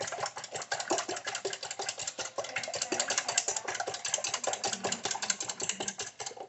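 Wet ingredients for chaffle batter are whisked briskly in a bowl close by, making a quick, steady rhythmic clatter and scrape throughout, with no talking.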